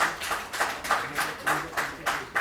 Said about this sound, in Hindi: एक बार आप सभी ताली बजा करके इन सभी का स्वागत करें